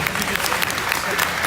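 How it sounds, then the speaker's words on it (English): A crowd claps for junior exhibitors at a market barrow show in Arizona, a steady, full round of applause filling the arena throughout, moderately loud and even. "Let's give those kids a big round of applause if you would."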